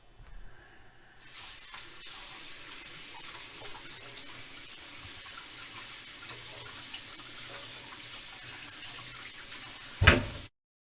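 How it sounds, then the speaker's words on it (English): Kitchen sink faucet running steadily while pork head meat is rinsed off, a constant even hiss of water for about nine seconds, ending in a brief clatter as the tap shuts off. "pull out all the meats and wash them in the sink and rinse them off really well"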